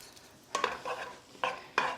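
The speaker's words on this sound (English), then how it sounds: "we're going to saute those in our tablespoon of butter and get those moving around" Sliced mushrooms being sautéed in a tablespoon of butter get stirred around the pan, producing a few distinct scraping, clattering strokes against quiet, faint background.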